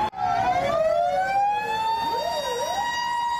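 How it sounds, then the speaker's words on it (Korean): A loud, close fire truck siren wails, its pitch sweeping down and then rising and falling in a yelp-like pattern, responding to a boiler factory fire in Asan, South Korea. "주민들을 깨운 건 소방차 사이렌 소리였습니다"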